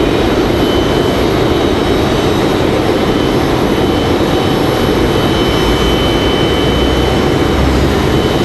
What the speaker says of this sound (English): We've got a 737 from Delta Airlines ready to go.